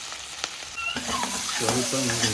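Finely chopped onions fry in a pan for a mushroom curry gravy. They give a short, close, steady sizzle, and a ladle stirs through them with scraping, slightly tonal rasps.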